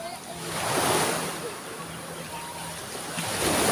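Waves wash and surge against a shore with steady wind noise, a continuous soft roar rising and falling.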